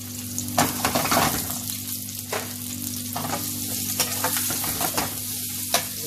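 Chopped onions sizzle and fry in a pan while being stirred, steady crackling broken by repeated scraping strokes of a utensil, close and moderately loud with no talk.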